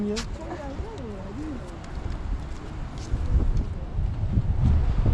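Wind gusts buffet the microphone at sunny, breezy Patara beach, rumbling low and growing stronger toward the end, while a voice talks over it at the start.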